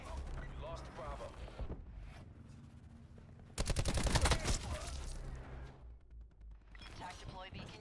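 A Thresher air support strike in Call of Duty: Black Ops 4 pours heavy, rumbling gunfire down for several seconds, rising abruptly above game announcer voices and the surrounding battle noise.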